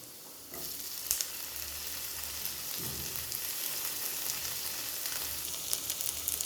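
Tomatoes go into a pan with capsicum for savoury vermicelli and fry with a dense, continuous sizzle, close and steady, with a few stirring clatters and no talk.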